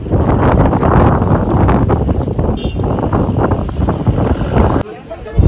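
Strong, steady, dry wind buffets the microphone with a loud, continuous roar at Nathu La mountain pass on the Sikkim–China border, while voices talk faintly underneath.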